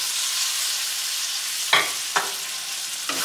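Tortellini sauce with tomatoes sizzling in a pan, a steady loud fry broken by three scraping strokes of a spoon stirring through it, close and without talk.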